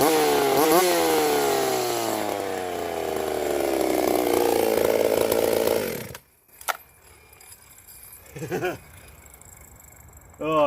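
An old chainsaw, unused for over a year, runs loud and close with a revving, wavering engine whine for about six seconds, then cuts out; afterward come a sharp clack and brief sputtering attempts as it tries to catch again, with talk around it.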